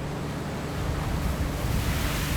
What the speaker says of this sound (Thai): แม้จะยืนยังลำบาก เนื่องจากคลื่นซัดเข้ามาอย่างรุนแรง